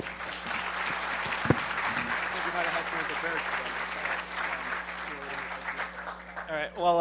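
Audience applause for speakers at a hacker conference, broad sustained clapping from a large crowd in a hall, steady and moderately loud, with some voices emerging near the end.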